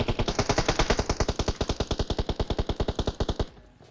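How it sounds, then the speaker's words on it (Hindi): An automatic weapon fires in PUBG Mobile, a loud, rapid burst of about thirty evenly spaced shots lasting over three seconds, then stopping abruptly. "इधर गोलियां भी चल रही है"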